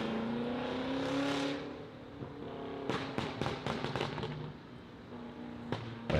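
A BMW X5M with a tuned 4.4-litre twin-turbo S63 V8 revs, then fires a quick cluster of sharp exhaust pops and crackles, followed by a few more isolated bangs, moderately close.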